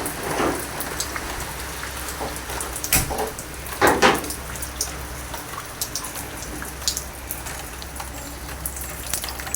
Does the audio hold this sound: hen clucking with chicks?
no